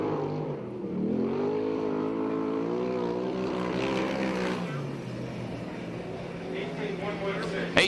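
A sprint car runs a qualifying lap in a USAC/CRA Sprint Car Series race at Perris, California, its engine a steady loud drone with wavering pitch that fades slightly toward the end, under continuous talk.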